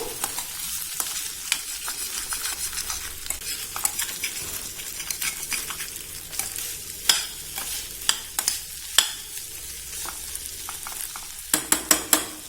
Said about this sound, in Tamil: இதெல்லாம் இப்படி சுரண்டி விட்டாதான் வந்து நல்லா சுவையா இருக்கும்.